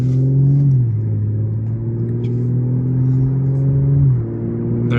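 Tuned 2018 Audi S5 Sportback with a Stage 1 tune pulling hard under acceleration, a steady rising engine drone with a brief dip as it shifts gear, heard from inside the car with no talking.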